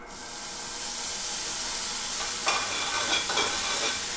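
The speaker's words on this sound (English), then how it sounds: "We're going to now saute up some shallots" Shallots sautéing in a frying pan used earlier for chicken breasts give a constant loud sizzle and hiss, with a few stirring scrapes near the end and no voices.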